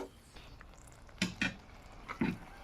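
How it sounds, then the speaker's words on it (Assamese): A spatula knocks and scrapes around a wok of taro and potato curry, a few quiet separate clinks and scrapes spaced out over soft background noise. "এতিয়া পানীখিনি শেষ নোহোৱালৈকে মাজে মাজে লৰাই থাকিম।"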